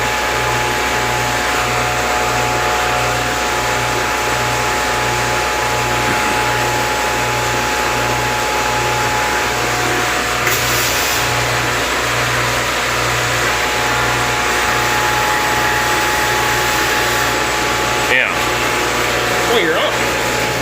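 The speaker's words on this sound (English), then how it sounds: "that motor, something's wrong in there. It turns really hard. It's not supposed to turn that hard" A faulty motor on a dairy pipeline wash system runs loud and steady, a constant whirring hum with a regular pulsing beat as it turns hard, close by.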